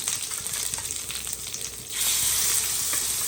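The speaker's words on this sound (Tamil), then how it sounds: "அதுக்கப்புறமா மீன் துண்டு சேர்த்துக்கலாம்." Fish pieces frying in oil on a flat dosa pan, a steady loud sizzle that swells brighter and hissier as the fish is added partway through.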